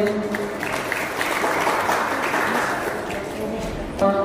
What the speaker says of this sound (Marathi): तरी या दोघांसाठी तर जोरदार टाळ्या वाजवू